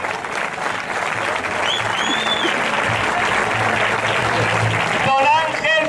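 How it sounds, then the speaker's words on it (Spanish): An audience claps loudly for Estefanía at a futsal club's team presentation, with dense sustained applause close by and brief cheering near the end. "Fuerte aplauso para Estefanía"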